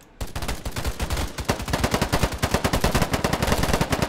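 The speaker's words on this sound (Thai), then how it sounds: "เสียงปืนมันช่างดูเดือดเหลือเกิน" Rapid automatic gunfire from an online free-to-play first-person shooter game, a loud, dense stream of shots fired continuously in fast bursts, up close with no talking.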